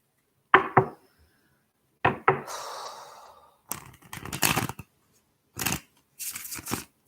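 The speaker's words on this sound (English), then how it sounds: "One more shuffle." Tarot cards being shuffled during a live card reading: several separate riffling bursts with brief breathy sounds between them, close and fairly quiet, with no talking.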